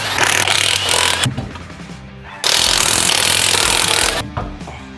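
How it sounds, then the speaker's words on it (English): Loud bursts of a corded impact wrench rattling and hammering up close while working on a Nissan GT-R, two long runs separated by a brief pause, with a shorter burst at the end. "We have a corded impact."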